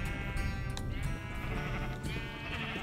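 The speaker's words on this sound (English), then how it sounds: "There's a sheep here." Sheep in Minecraft bleat repeatedly, several wavering bleats overlapping one another against a steady game background, fairly close and clear.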